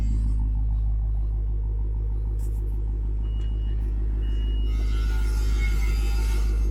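A Ferrari F12 runs with a continuous deep engine rumble at close range, a hissy broadband rise near the end suggesting a slight rev, with faint speech in the background.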